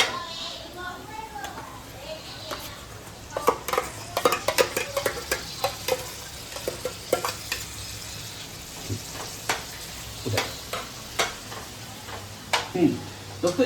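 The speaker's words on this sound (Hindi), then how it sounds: "अब हम डालेंगे इसमें खोबरे का पेस्ट" Coconut paste hits a hot frying pan and is stirred, giving a steady sizzle broken by repeated sharp spoon scrapes and clinks against the pan.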